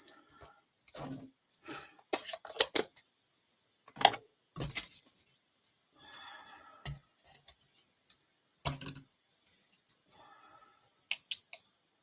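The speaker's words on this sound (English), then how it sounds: "my final one, I'm going to fussy cut." Scissors fussy-cut around a stamped paper toadstool, making a long run of small, close, snipping clicks and crisp paper rustles that come in irregular bursts with quiet gaps between them.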